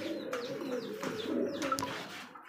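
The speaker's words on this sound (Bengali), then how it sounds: "এটাও ঝর্ণার শাটিন কবুতর" Satin pigeons cooing softly in a loft, low rolling coos layered over one another with a few brief chirps and rustles, fairly quiet and close.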